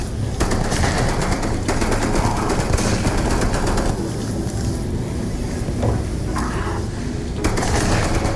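A minigun in the video game Starfield fires in a long, unbroken burst, a loud, dense rattling roar that runs almost the whole time with only slight dips in intensity.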